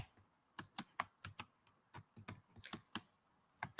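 Typing on a computer keyboard in a quiet room, a short burst of crisp, irregular key clicks close by.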